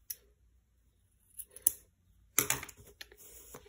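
Scissors snip through crochet yarn, a sharp close cut preceded by a few light handling clicks and rustles, with faint fabric noise afterward.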